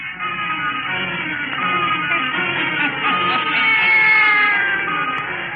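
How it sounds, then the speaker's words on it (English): A black cat meows and caterwauls in a radio drama from 1932, a loud, drawn-out, wavering cry held steadily for several seconds with no talk over it. "And now let us join old Nancy and Satan, her wise black cat."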